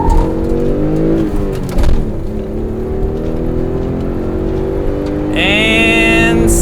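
Ford Probe GT pulling hard from a standstill toward 60 with wheelspin, its engine droning loud and continuous while it climbs through the revs, with a rising whine and a brief shift near the end.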